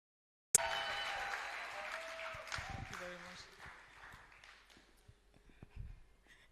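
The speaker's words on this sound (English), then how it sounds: "Clap like you know that you're about to receive it." Audience applause for a speaker at the WiCare Entrepreneurship Empowerment Forum bursts out loud and sustained, then slowly thins over several seconds with a brief swell near the end.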